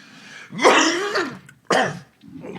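Two harsh, loud coughs close by, a long rasping one followed by a shorter burst, then a quieter rough throat noise.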